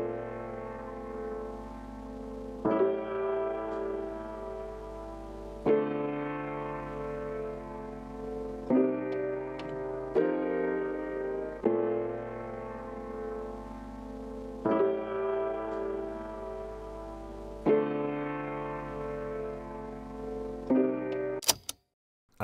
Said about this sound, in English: So I found these piano chords, which seemed to work perfect